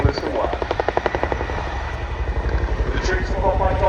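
A military helicopter of the Joint Helicopter Support Squadron performs a roll demo at the RIAT 2025 airshow, its rotor thudding in a rapid rhythmic beat under a commentator's voice.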